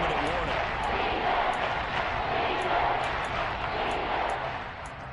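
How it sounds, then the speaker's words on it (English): Stadium crowd in a Madden football video game roaring steadily ahead of a big third down, a dense continuous cheer that holds loud throughout and eases slightly at the end. "the crowd getting into it as we come up on a big 3rd down"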